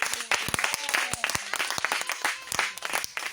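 A church congregation claps and cheers for Jesus, with steady crowd applause and scattered shouts from many people close by.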